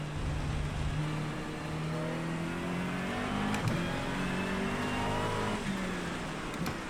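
A race car in Project Motor Racing accelerates on a wet track, its engine note climbing through rising revs with short dips at gear changes, loud and continuous with no talk.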